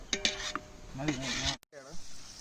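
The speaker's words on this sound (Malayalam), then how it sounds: "എന്നിട്ടൊന്ന് ഇളക്കി കൊടുക്കുക" Cashews being stirred into a pot of Thalappakatti chicken biryani, giving a close scraping, rasping rub of spoon against pot with short bursts, a brief silent gap, then more stirring.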